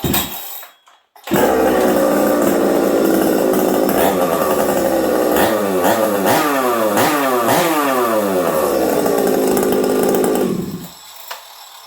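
A new Husqvarna 365 chainsaw with a UFO pipe runs during break-in, starting after a brief silence and idling loudly and steadily for about ten seconds, with a series of quick throttle blips midway before it cuts off.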